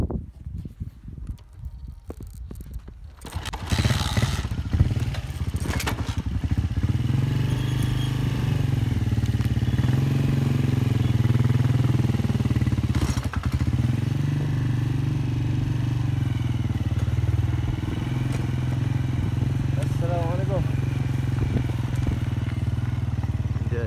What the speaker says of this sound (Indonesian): Dekat ni menaiki motor saya.